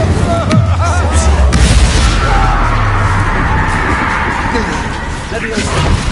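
An Incendio fire spell goes off in a video game as a loud, sustained roaring blast with booming bursts, continuous for several seconds, with voices shouting over it.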